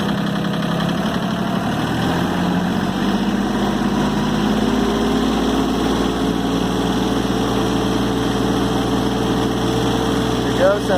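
A Mahindra 3016 Shuttle 4WD tractor engine with under 89 hours revs up from idle to PTO speed and holds a loud, steady drone close by with a slight vibrating buzz.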